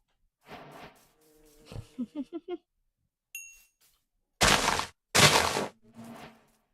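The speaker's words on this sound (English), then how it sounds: "there's a baby bee now" A small bee buzzes faintly near a person in an outdoor garden setting, with brief buzzing bursts among scattered speech, a few sharp knocks, and two loud noisy rushes partway through.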